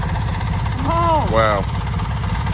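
A 1970s Haulmaster mini trike with cast iron cylinders runs with a loud, steady, close mechanical drone and engine vibration throughout, while a person speaks briefly over it.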